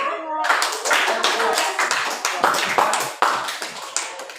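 A group of students in a classroom claps hands together in a brisk, uneven burst lasting a few seconds, with voices mixed in among the claps.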